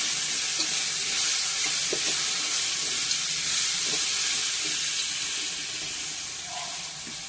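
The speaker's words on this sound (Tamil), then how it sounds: "நல்லா வதங்கினோடனே மாங்காவை கொட்டுறோம். அதில் நல்லா கிளறி விடுறோம்." Raw mango stirred into fried onions in a hot pan, a loud, continuous hissing sizzle with faint scraping of the spoon, steady throughout and easing slightly at the close.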